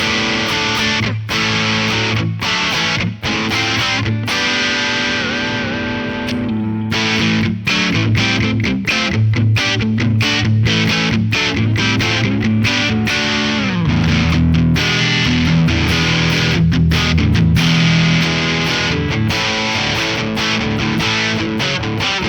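Electric guitar played through a Behringer OD300 overdrive pedal, a steady stream of loud, distorted chords and picked notes that runs continuously with no talk.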